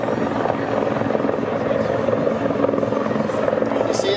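An RCAF Bell CH-146 Griffon search-and-rescue helicopter hovering at the Canadian International Airshow, a loud continuous rotor thump and turbine roar, steady and fairly near, with an announcer speaking over it.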